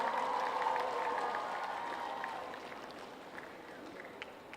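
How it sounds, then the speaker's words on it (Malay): Applause from a large evening crowd of Tawau and Sabah residents at a national-month flag-raising launch, steady and fairly distant, slowly fading across the clip. "tepukan untuk semua"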